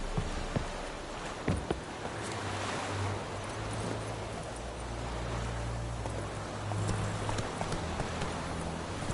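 Hooves of Roach, a horse in The Witcher 3 on PS4, clop steadily in a running rhythm beneath wind, surf-like ambience and a low drone, with sparse faint thumps.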